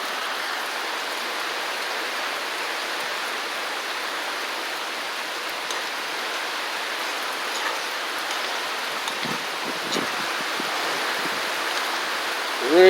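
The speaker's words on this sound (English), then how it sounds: "See, enjoy the rain." Steady rain falls in rural Jamaica, a dense, even hiss of drops on surfaces that continues throughout, with a few slightly louder spatters near the end.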